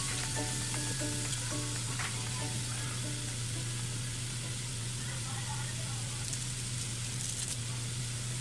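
Tokwa, or tofu, frying in a pan gives a steady, faint, hissing sizzle under a constant low hum, with a few light clinks and a brief voice near the start.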